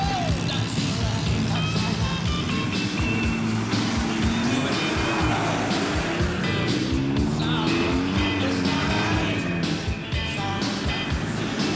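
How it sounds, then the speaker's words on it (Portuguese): Jeeps on a club off-road outing drive a rain-soaked muddy trail near Presidente Getúlio, Santa Catarina, sliding a little through the curves; a continuous loud engine drone with shifting revs and splashing, no talk. "Os carros seguiam adiante, saindo um pouco de lado nas curvas"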